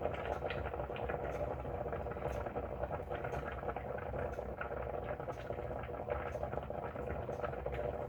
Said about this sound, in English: let this come to a simmer, let it thicken up while the potatoes are finishing up